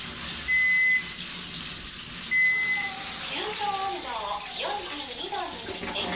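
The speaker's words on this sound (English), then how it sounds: "I bet this thing's gonna start filling up" An automatic bathtub in a new apartment in Yamaguchi, Japan, gives two short electronic beeps before water starts gushing into the tub, and someone talks briefly over the flow.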